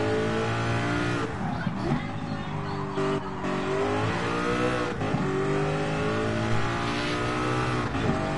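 A Le Mans race car in Gran Turismo, the 787B, revs loudly and up close, its engine tone rising and falling continuously over about eight seconds with a harsh, dense roar and no talk over it.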